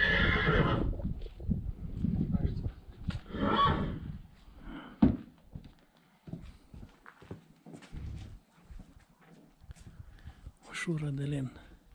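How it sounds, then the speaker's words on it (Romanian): Horses neigh loudly near the start and again a few seconds later at a farmstead with a log barn in Straja, Bucovina, with scattered hoof clip-clops and footsteps while people talk nearby. "Să filmăm cai, are trei cai frumoși."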